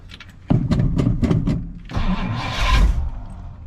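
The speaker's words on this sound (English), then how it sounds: "start the engine, and we'll see how she sounds" A Ford Edsel engine with a newly fitted exhaust manifold is cranked, with a rapid series of starter chugs, then catches and sputters into a rough, rising rev.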